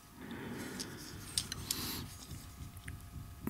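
Plastic parts of a Transformers Trailcutter toy figure click and rub as it is folded and unhooked, with a few sharp snaps around the middle, close and fairly quiet, no talk.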